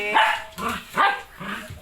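A pet dog kept at home gives four or five rough, close barks at an uneven pace, with faint background noise between them.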